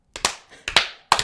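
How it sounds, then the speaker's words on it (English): Three sharp hand claps in a quick, slightly uneven sequence, each a crisp isolated smack with short decay, close and fairly loud with no talking. "clap 3 times in a row"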